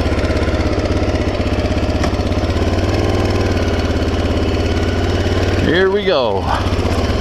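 A Honda XL 600 R dirt bike engine runs steadily throughout with a loud, close, rhythmic idle, and someone speaks briefly over it near the end.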